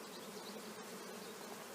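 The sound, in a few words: honey bees around the hive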